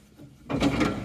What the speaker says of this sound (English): Nice heavy duty drawers.